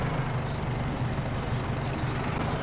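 A McCormick tractor idling in Farming Simulator 25, a steady low engine drone at moderate level with an even throb and no other sounds.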